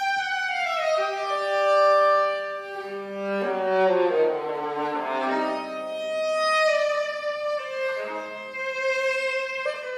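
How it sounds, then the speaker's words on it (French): A Stradivarius viola sings a slow, sustained melody with rich bowed tones and smooth note changes, heard clearly and alone. "Le son que vous entendez, c'est un Stradivarius."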